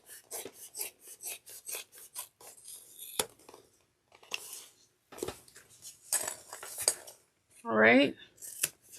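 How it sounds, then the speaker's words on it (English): Scissors snip through fabric seam allowances on a sewing project for a tote bag, a quick run of close, crisp cuts with a short spoken phrase partway through. "we're going to trim these seam allowances down to 1/4 of an inch"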